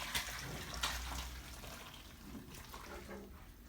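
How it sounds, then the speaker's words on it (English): Sinigang broth poured from a vessel into a cooking pot, a steady splashing, gurgling stream close by, fairly loud and continuous with no one talking. "I'm going to pour the rest of it in."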